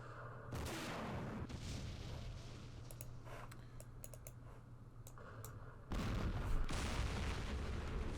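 Artillery and gunfire from the Campaign Series Vietnam war game, with muffled bursts and scattered clicks over a steady low hum, a louder blast rolling in near the end.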